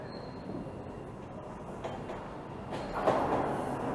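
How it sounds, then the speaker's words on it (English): An eastbound subway train approaches Warden station in Toronto, a steady low rumble of wheels on rails building gradually louder as it nears the platform. "Here comes an eastbound train,"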